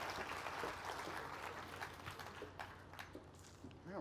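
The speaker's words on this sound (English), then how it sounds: "let's give all 4 of these people a nice round of applause" An audience at a mental-math show claps for four volunteers, a faint, distant stretch of applause with a low hum underneath.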